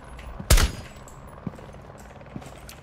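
A single sharp gunshot in Rainbow Six Siege rings out loud and near early on, followed by two fainter distant thuds, with a steady game-ambience hiss underneath.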